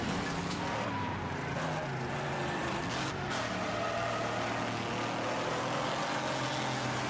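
Race car engines in Wreckfest, a steady drone of revving motors with brief tire skids and screeches, loud and continuous with no speech over it.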